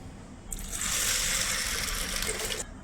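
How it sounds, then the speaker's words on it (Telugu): Water pours steadily into a pot of sago pearls for about two seconds, a bright continuous gushing rush that starts and stops abruptly. "దీనికి సరిపోను వాటరు పోసుకోవాలండి ఇవి మునిగేంత వరకు నీళ్లు పోయాలి"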